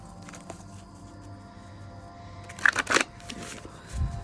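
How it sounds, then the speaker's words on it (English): A deck of tarot cards is shuffled close by in a quiet room, a low rustle that gives way to a short burst of crisp riffling near the end. "It was a terrible shuffle, so we're going to shuffle one more time."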